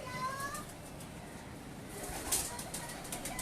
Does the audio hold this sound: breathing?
no